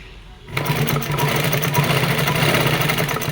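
Sewing machine fitted with a piping foot stitching piping, starting abruptly after a brief quiet moment and then running in a fast, steady, close mechanical whir.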